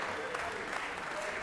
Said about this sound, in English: Please give the President Pro Tem a great round of applause